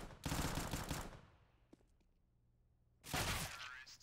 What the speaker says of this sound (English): No point pre-fire shooting through the box with a pistol.